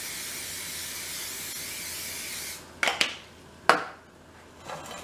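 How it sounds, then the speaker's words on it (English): A long continuous aerosol hiss of olive oil cooking spray coats a springform pan for a couple of seconds, followed by a few short bursts and light clatter, close by. "I'm going to spray my Springform pan"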